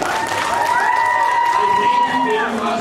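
Audience applause with cheering voices rings out for two young volunteers, Jace and Will, at a school science night show. The sound is steady and dense across the whole stretch, with voices mixed into the clapping.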